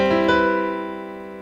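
A second-inversion seventh chord struck once on a sustained keyboard tone, ringing clearly with rich harmonics and slowly fading over about a second and a half.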